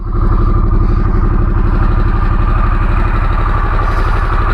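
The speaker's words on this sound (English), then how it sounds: "Now let's hear this bike for you right quick." A 2021 Harley-Davidson Sportster S with its Revolution Max engine runs steadily at idle, a loud, close, even rhythmic rumble with no talking.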